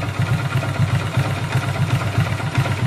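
A Hero or Honda motorcycle engine idles steadily after a self-starter repair, its low, even putter pulsing at a regular beat close by with no talk over it.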